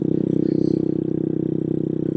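A Boom Vader 125 motorcycle with a new exhaust runs at wide open throttle, a rapid, buzzing single-cylinder drone with a fast pulsing rhythm, steady and close.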